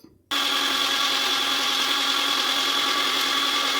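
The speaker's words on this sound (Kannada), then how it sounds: "ಈಗ ಮತ್ತೆ ಮಿಕ್ಸಿ ಮಾಡ್ಕೋತಾ ಇದ್ದೀನಿ" A mixer grinder blending a detox drink with added water starts abruptly and runs at a steady, loud high-pitched whine, blending continuously without pause.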